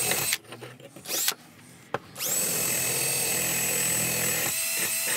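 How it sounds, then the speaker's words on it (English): A wire wheel on a power tool spins up against metal being prepped for cold bluing: brief starts and stops, then a loud, steady whirring grind with a high whine, close and sustained for several seconds. "work with a wire wheel"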